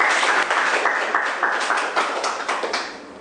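Applause from the audience at a live Korean broadcast talk event, a dense steady clatter of many hands clapping together that fades slightly toward the end.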